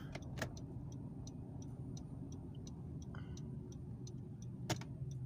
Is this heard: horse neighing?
no